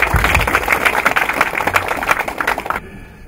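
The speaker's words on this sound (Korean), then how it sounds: "우리 포항 시민들 박수 한번 쳐주시죠." A crowd at a campaign office opening ceremony for a Gyeongbuk provincial governor candidate in Pohang claps in a dense, loud burst of applause that carries steadily, then cuts off abruptly near the end.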